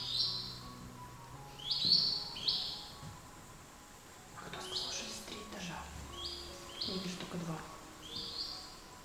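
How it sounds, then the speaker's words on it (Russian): Small birds chirp in short, high, repeated bursts inside an old manor house, some close and some further off, while quiet voices and footsteps sound in the room. "Видишь, сколько здесь птичек?"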